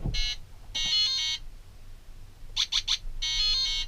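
Tonal beeps from a DKP LEGO-compatible 4.5-volt programmable brick: a short beep, a longer tone, then three quick chirps and a final sustained tone, clear and close against a quiet background.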